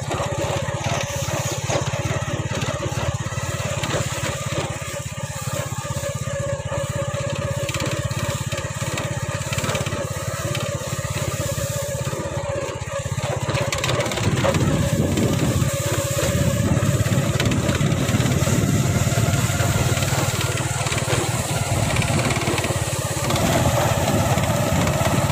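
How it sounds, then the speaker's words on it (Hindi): A tractor ploughs a field where the rice harvest is mostly finished, its engine chugging steadily and loudly for a sustained stretch, growing somewhat heavier partway through. "जान जो हैं वो ट्रैक्टर पर हैं, खेतों में हल चला रहे हैं।"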